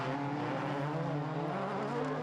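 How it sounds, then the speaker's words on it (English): Red Citroën Saxo rallycross race car at Maasmechelen racing past, its engine a steady loud droning roar with other race-car noise mixed in. "there is Yves Thelen in the red Citroën Saxo."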